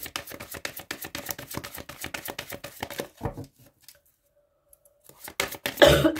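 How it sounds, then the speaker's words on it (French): A few harsh coughs burst out near the end after a stretch of silence, loud and close, following a run of rapid clicking or tapping. "Je suis désolée, je tousse, j'ai des quintes de toux"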